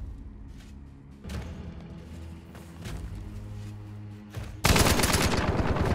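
A Mosin rifle loaded with Spitzer ammunition fires in the Hunt: Showdown game: a low muffled report early on, a bass rumble, then a loud sharp blast that sustains to the end.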